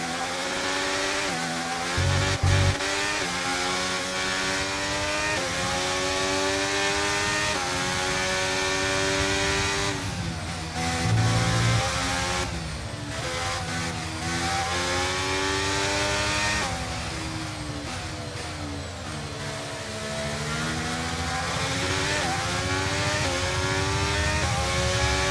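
F1 racing cars from the game F1 23 on the Miami circuit scream past in a continuous high-revving engine drone, loud and sustained with rising and falling pitch as gears shift, no talking.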